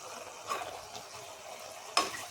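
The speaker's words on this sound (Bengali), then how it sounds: "ঘিটা দিয়ে আমি একটু নেড়ে দিলাম" A spoon stirs a spoonful of ghee in a pan while making amla laddu, with two brief scraping strokes over a faint, quiet background.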